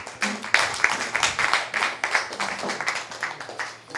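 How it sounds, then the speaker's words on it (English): Clapping from a group of people, uneven and fairly close, with rhythmic bursts throughout a few seconds. "A bigger round of applause."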